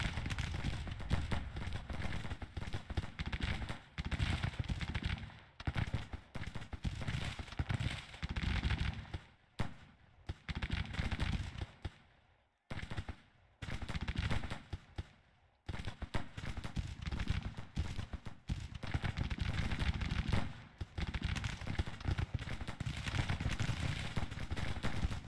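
Artillery and massed gunfire in a Grand Tactician Civil War battle, a dense, continuous barrage of booms and crackling volleys at steady loudness, with brief lulls partway through.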